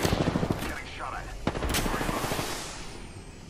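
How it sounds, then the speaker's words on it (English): Rapid automatic gunfire in the battle royale shooter Apex Legends, loud and close with dense bursts of shots and sharp cracks that trail off into reverberation. "Getting shot at."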